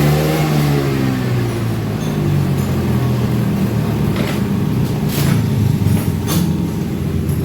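A Honda Vario 160 scooter engine with a rough-sounding CVT drones close by, steady and loud, with a mid-pitched hum and a few light rattling clicks near the end.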